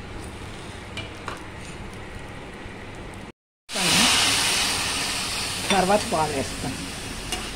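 Vermicelli (semiya) frying in a pan for payasam, a steady close sizzle with stirring scrapes that cuts out briefly and resumes louder, while someone speaks over it.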